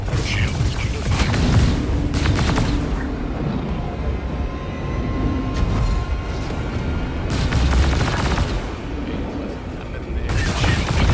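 Spaceship shields absorb weapon fire in Star Citizen, a dense, continuous barrage of impacts and booms with heavier bursts recurring, under engine rumble and occasional talk.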